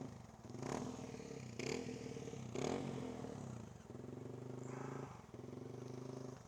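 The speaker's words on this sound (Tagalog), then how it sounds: "Lahat naman ng motor nila may auto warm up boy." A Yamaha Sniper 155 motorcycle engine idling during auto warm-up, a steady low putter close by, interrupted by a few sharp clattering knocks in the first half, then a smooth even idle with a brief dip.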